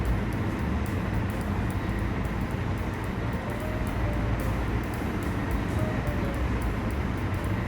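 Steady rumble and rolling hum of an Amfleet cab car train running at speed on the Northeast Corridor between New York and Trenton in Train Sim World 3, constant and loud from start to finish.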